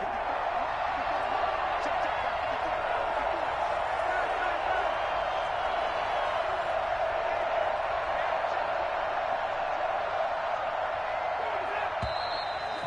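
Stadium crowd roaring steadily throughout an American football game featuring the Falcons on third down, a dense, loud wall of cheering with no breaks.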